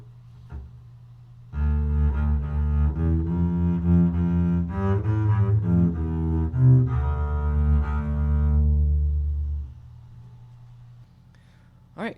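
Bowed double bass playing a passage from Ships of Ireland, a steady legato line of sustained low notes with some slurred phrasing, close and solo for about eight seconds before fading to quiet.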